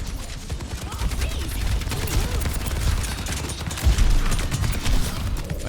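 Rapid bursts of gunfire from a team shooter match in Overwatch 2, dense and continuous with louder shots near the end, mixed under game effects and occasional voices.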